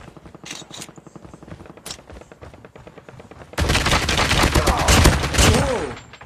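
Shotgun fire in the battle royale mode of Call of Duty Mobile starts as sparse, quieter shots and footsteps, then becomes loud, dense rapid bursts of gunfire for the last few seconds.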